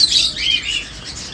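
Pet birds at the Mirpur bird market in Bangladesh chirp and call in a busy, overlapping chorus of bright, high tweets, fairly loud and close, with no talk.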